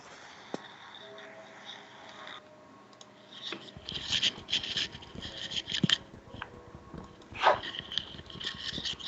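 A dog in the video game Minecraft gives a few faint whines and yelps, scattered among busy in-game clicks, footsteps and block sounds. The sounds are brief and sit low in a cluttered game mix.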